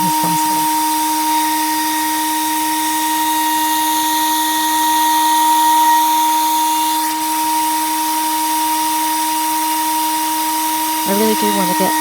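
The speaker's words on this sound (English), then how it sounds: "then with the planer, starting with some very light passes to clean it down just enough to get that resin off" An electric planer takes very light passes over a black walnut slab set with poured resin, a loud steady whine with a constant tone running throughout, briefly shifting at the end.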